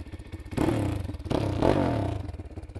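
Off-road motocross bike engine idling and revving in bursts, a throaty rise and fall that swells twice, loud and close, with no one talking.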